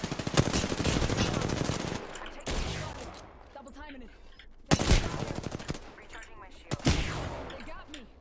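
Automatic gunfire from the Apex Legends video game, with rapid bursts and sharp shots through the whole stretch and a few loud single cracks, mixed with a player's excited talk over the game action.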